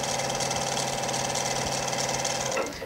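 A sewing machine stitches encased welt cord, running at a fast steady chatter with a humming motor for a few seconds before it slows and stops, and no one talks.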